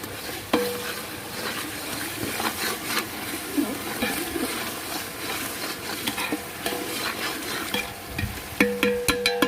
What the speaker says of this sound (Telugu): అల్లం, వెల్లుల్లి పేస్ట్ వేసి తిప్పుకోవాలి.